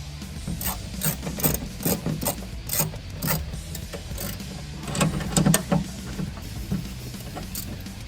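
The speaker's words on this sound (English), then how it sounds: "now that it's all in there, we can go ahead and tighten everything down" A ratchet tightens inner fender bolts on a Jeep JL during an Artec inner fender install, clicking in quick rhythmic bursts of pawl ratcheting, close and loud, with brief pauses between strokes.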